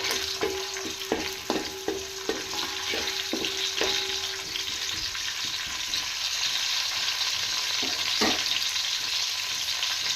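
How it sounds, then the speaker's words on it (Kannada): Onions and curry leaves fry in hot oil with a steady, loud sizzle throughout, opening with a rapid run of sharp crackles and pops and one more pop near the end, with nobody speaking. "ಚೆನ್ನಾಗಿ ಸ್ವಲ್ಪ ಈರುಳ್ಳಿ ಫ್ರೈ ಆಗಬೇಕು"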